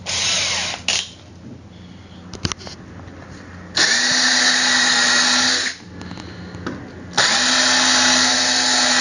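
Power drill fitted with a countersink bit boring into wood for a Viking shield, two long loud whining bursts with motor pitch rising as it spins up, separated by quieter handling clatter, knocks and a short starting buzz.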